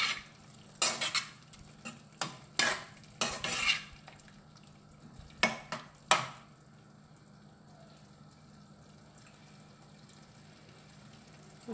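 A pan of pumpkin and bean erissery curry is stirred with a spoon, giving a series of scraping strokes and soft clinks in an irregular rhythm for about six seconds, then only quiet background.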